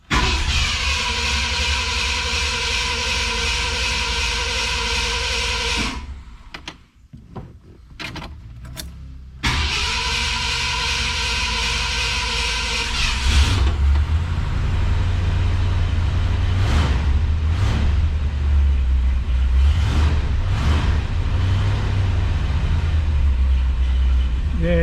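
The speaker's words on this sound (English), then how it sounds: "let's see how a cold start is after it's been sitting here forever" A 1966 Ford Galaxie 500 with a gummed-up carburetor starts cold after long sitting: a loud steady drone cuts out, returns briefly, then gives way to a lower, rougher rumbling idle.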